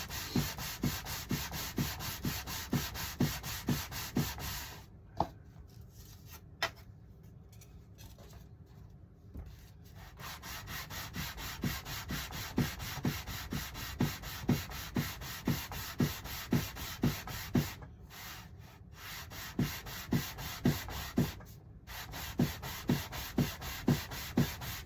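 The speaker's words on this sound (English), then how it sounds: "Sanding it in the wing, because of the ribs, creates kind of a slightly irregular sanding pattern." Rhythmic hand sanding on a wooden wing over its ribs, repeated rasping strokes in a steady back-and-forth pattern, close and fairly loud, with a couple of brief pauses.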